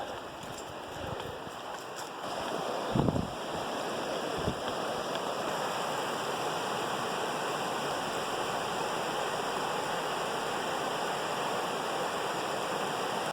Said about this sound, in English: here we are at the bottom of Granny Burrell Falls